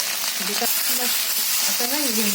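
Okra sizzles steadily in hot oil in a pan, a dense constant hiss of frying, with a faint voice murmuring underneath at moments.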